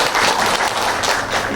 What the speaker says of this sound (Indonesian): Tepuk tangan dong buat Rotary Club Indonesia.